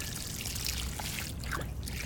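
Water trickles and dribbles steadily from a garden hose as a manatee drinks from it, a soft continuous pouring sound with faint splashes and no talking.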